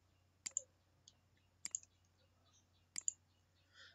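Three sharp, close mouse clicks spaced about a second apart, each a quick double snap, over a faint steady hum in an otherwise quiet room.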